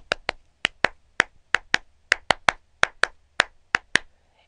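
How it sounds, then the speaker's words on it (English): Two people clap Steve Reich's Clapping Music, playing a sharp, dry, interlocking rhythm of close hand claps in an uneven repeating pattern with no other sound. "clapping music, which is a piece he wrote for two people clapping"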